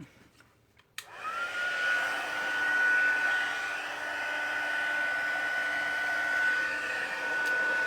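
A heat tool switches on after a brief quiet moment and blows hot air steadily, a loud whooshing roar with a thin whine running through it.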